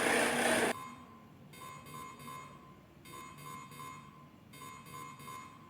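A cooling tower sensor alarm in a closed-loop SCADA cooling system sounds in three repeated bursts of beeping tones after a loud opening noise, moderately loud with no talk.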